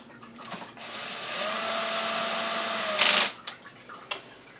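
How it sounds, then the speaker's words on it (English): Power screw gun driving a screw into a transmission cover on a 1980 Suzuki FZ50 scooter, a steady motor whine for about two seconds ending in a sharp louder burst, followed by a few clicks. "Now we're going to zap this sucker on with a screw gun."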